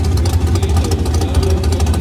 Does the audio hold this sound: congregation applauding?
no